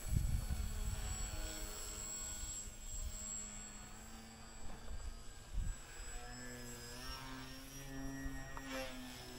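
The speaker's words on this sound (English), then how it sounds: "Flying like a champ. I like this plane. Flies really good, smaller than my other ones." A small Twisted Hobbys Lil Fokker foam RC plane flies overhead, its electric motor a thin whining drone that rises and falls in pitch as it passes nearer and farther, with wind buffeting at the start.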